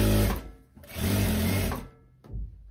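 Sewing machine stitching a pocket onto a teddy coat, two loud close runs of rapid needle clatter with a short pause between and a brief burst at the end.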